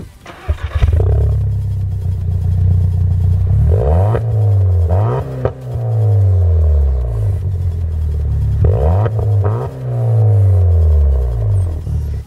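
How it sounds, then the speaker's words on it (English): A Volkswagen Golf R with a 2-liter turbo engine, tuned to about 536 wheel horsepower and held to a 4,500 RPM limit, fires up with a loud roar. It then gives several sharp revs that rise and fall, heard up close with nothing else over it. "Let's start this thing up."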